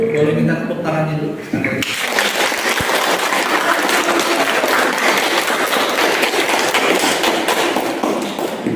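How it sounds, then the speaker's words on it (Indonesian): After a short stretch of speech, an audience bursts into sustained applause, a dense, loud clatter of clapping that carries on steadily to the end. "Boleh minta tepuk tangannya dulu."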